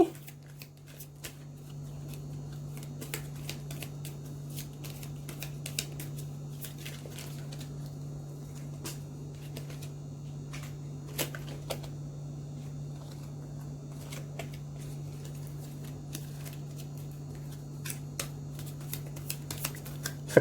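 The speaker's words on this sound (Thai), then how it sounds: "พอไพ่ขนาดเล็ก ค่อน ข้างสับยากนิดนึง" Small mini-size tarot cards are shuffled by hand in quick, soft riffling clicks that repeat steadily over a constant low electrical hum.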